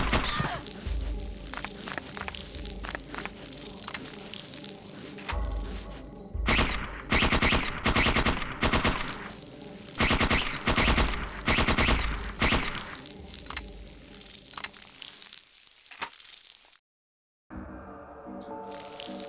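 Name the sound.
secondary weapon fire in the video game Parasite Eve II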